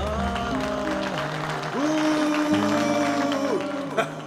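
An audience claps for a singer while music plays loudly over it, with a sustained melodic line and backing carrying through. The clapping stays low under the music and swells slightly near the end.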